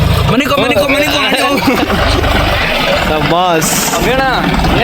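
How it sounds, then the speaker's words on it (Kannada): A new tractor idles close by, a steady low rumble running the whole time beneath loud voices talking over it. "ಇವಾಗ ಟ್ರ್ಯಾಕ್ಟರ್ ಬಂತು ನೋಡಿ ಗಾಯ್ಸ್ ಹೊಸ ಟ್ರ್ಯಾಕ್ಟರ್"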